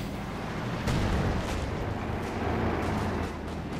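Artillery bombardment from an M608 in the Company of Heroes 2 strategy game rolls as a dense, loud wash of booming blasts and rumble, with heavier surges throughout.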